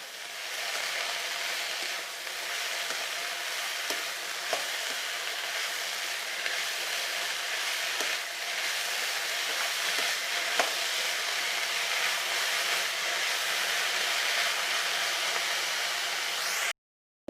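Fish coated with a little turmeric frying in a pan, a steady broadband sizzle holding evenly for about seventeen seconds with a few faint clicks, no talking, then cutting off abruptly.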